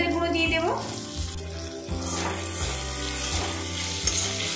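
A spice masala of ginger, cumin and turmeric frying in a pan for a dal and beans curry makes a continuous sizzle with occasional stirring scrapes, set against a steady tonal background.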